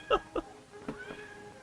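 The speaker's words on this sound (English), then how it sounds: "That cat making those noises." A cartoon cat from the 1928 Steamboat Willie animation lets out two short, squeaky meows, followed by softer whining cries in a brief, close sequence.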